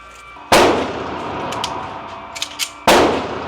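A handgun fires two loud, close shots about two seconds apart, each with a sharp crack and a ringing decay, with small clicks and handling noise between them and no talk.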